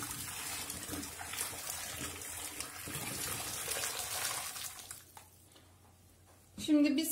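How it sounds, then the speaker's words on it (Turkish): Boiling water mixed with sugar poured from a container into a clogged sink drain, a steady splashing pour that runs for about five seconds, drops away, then a brief louder gurgle near the end. "1 litre kadar kaynak suyumuzu bu şekilde lavabomuzun içerisine"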